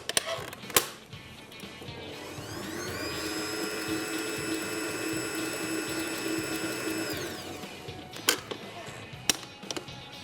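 A mixer whirs through chocolate cupcake batter in a kitchen, its motor whine rising, holding steady for several seconds, then winding down, with a few sharp clicks and knocks before and after.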